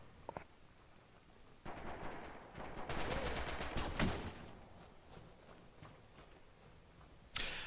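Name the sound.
PPSh submachine gun fire in a video game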